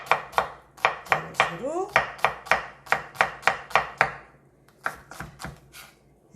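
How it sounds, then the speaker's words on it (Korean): A knife chopping onion on a cutting board in quick, even strikes, about a dozen close crisp knocks, then a short pause and a few more cuts, with a brief remark spoken. "그 상태에서 썰면은 양파가 흩어지지 않게 훨씬 더 편리하게 다질 수가 있어요"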